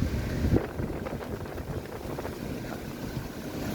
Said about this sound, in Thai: ลมแรงนะครับ ลมแรง